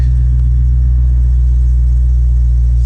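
A car engine idles at a dealer-only auction, a loud, steady low rumble with a constant hum close by and no change in pitch, with no voices.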